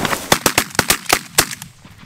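Rapid volley of shotgun blasts during an early-season goose hunt in Minnesota, about eight sharp close reports fired in quick succession over roughly a second and a half, loud and with no talking.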